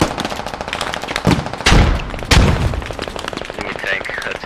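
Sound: automatic gunfire in a video game

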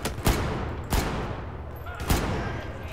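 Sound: gunfire from video game Battlefield 4

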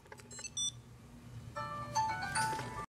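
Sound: Bluetooth tracker piezo speaker beeping

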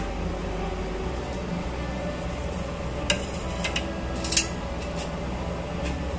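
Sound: stirring flattened-rice puli pithe in sugar syrup in a pan

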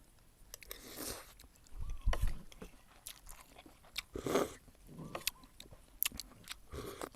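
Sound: chewing crunchy peanuts

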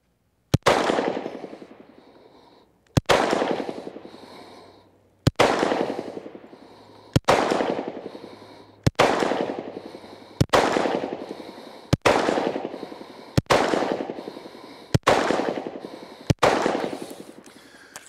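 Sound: ten rounds of gunfire shot at a target

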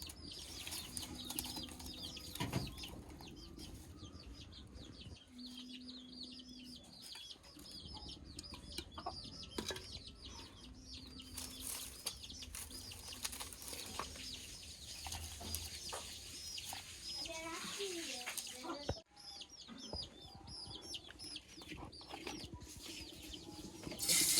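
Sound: chickens clucking in a village yard

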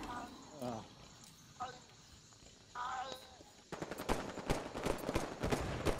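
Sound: Bolt Shot weapon firing in the video game Halo 5

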